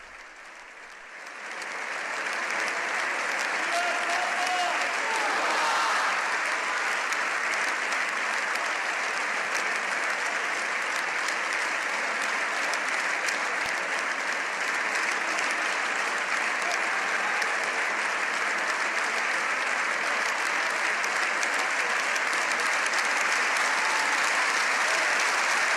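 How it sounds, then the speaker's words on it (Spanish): Long, sustained applause fills the Spanish Congress of Deputies after the Pope's speech to parliament and senate. The dense, steady clapping from a large audience swells within the first seconds and holds evenly throughout. "Nuevamente se repite con más efusión el aplauso, largo aplauso al Papa León"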